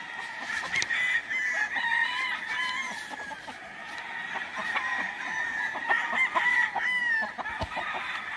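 Rooster crowing repeatedly over a farmyard background, several long calls at mid distance mixed with clucking fowl, steady and fairly loud throughout with no talk.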